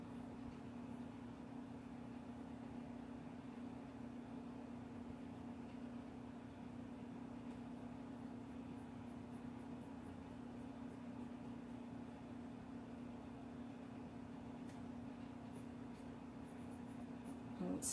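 A fountain pen loaded with black ink scratching across paper, a faint, continuous close scratching over a steady background hum, with a few light taps near the end.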